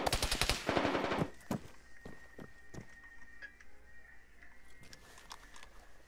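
Rapid bursts of automatic gunfire in the video game Arma 3 crack loudly in the first second, followed by scattered single shots and thumps over a quieter, humming background.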